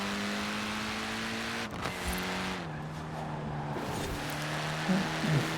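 A race car in Forza Horizon 4 holds a steady, droning engine note, with the pitch dipping through gear shifts and light tire noise underneath, loud and close throughout.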